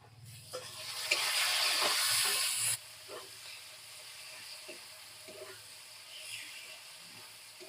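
Chopped tomatoes hitting browned onions in hot oil give a loud sizzling hiss for a couple of seconds, then it drops to a faint simmer with occasional stirring clinks.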